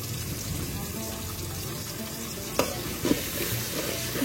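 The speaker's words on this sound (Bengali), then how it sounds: "ভালোভাবে ভেজে নিব এগুলো।" Onion with ginger-garlic paste frying in oil in a wok, a steady soft sizzle throughout with a couple of brief scrapes of a spatula near the end.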